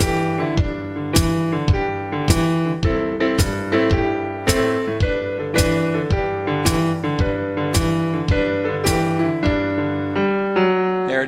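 "Go Tell It On The Mountain" on piano, the right hand adding chord tones beneath the top melody note; steady, evenly spaced struck chords over a bass line, close and clear, with no voices.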